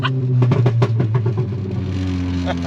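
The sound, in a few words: Audi S3 with stock turbo and stock block engine revving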